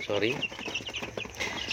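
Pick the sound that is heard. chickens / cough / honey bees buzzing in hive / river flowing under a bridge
chickens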